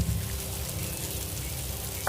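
Heavy rain pours down in a cartoon, a dense, continuous hiss and patter at moderate level, with a short sharper burst near the end and no speech.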